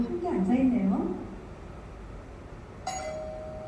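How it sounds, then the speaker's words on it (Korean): A doorbell chime rings once near the end, a clear sustained tone sounding indoors after a stretch of talk and quiet room noise; a voice speaks before it. "초인종이 울렸습니다."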